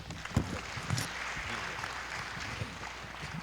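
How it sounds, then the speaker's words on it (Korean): Applause at a fisheries and maritime outlook conference welcomes Professor Jang Young-soo of Pukyong National University, a faint, even patter of clapping from a seated audience with a few louder nearby claps early on. "우리 장영수 교수님 그 박수로 환영해 주시기 바랍니다"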